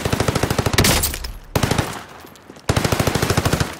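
Automatic gunfire in a shooter video game comes in two rapid, evenly paced close bursts, separated by a short stretch of quieter ambient game noise.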